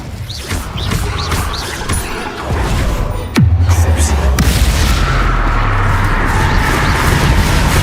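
Bombarda spell explosion in the video game Hogwarts Legacy: a sharp, loud blast that drops into a deep, rumbling boom, followed by sustained crackling debris and low roar amid busy combat noise.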